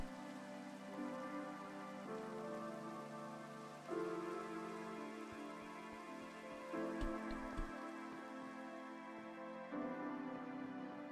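Steady Minecraft rain pours through the whole stretch, a dense continuous hiss with no talk over it and a few faint game sounds layered underneath.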